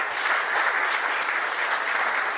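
Steady audience applause at a round-table on corporate social responsibility welcomes a guest, a dense continuous wash of many hands clapping at even loudness throughout, with no voices over it.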